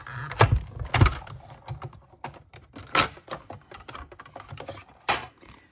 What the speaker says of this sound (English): cut and emboss machine.